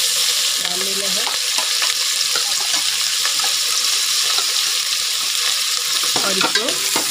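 Chicken pieces sizzle and fry in a pot while being stirred for a pulao, with a steady hiss throughout and occasional scraping and clinking of the spoon against the pot, close up and without talking.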